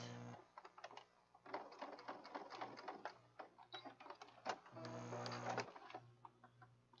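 A sewing machine stitching journal cards with paper pockets, its motor whirring in short mechanical bursts with rhythmic needle chatter, brief pauses between runs, close and fairly quiet.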